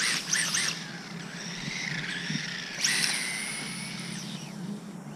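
A small RC Toyota MR2 car running on foam tires gives off a whining electric motor. The pitch rises and falls as it speeds up and slows down, loudest near the start and around the third second.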